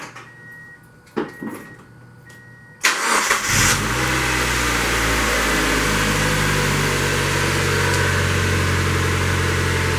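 A 2000 Mazda Miata cranks briefly, with a few clicks and short bursts, then fires up with a loud catch and settles into a steady, close idle that fills the rest of the clip with no talk.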